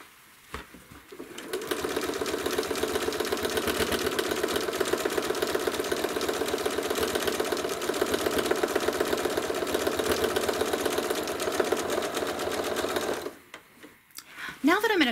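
A sewing machine quilting feather designs on fabric hums in a fast, steady stitching rhythm for about twelve seconds, close and even, then stops, with a brief softer run near the end.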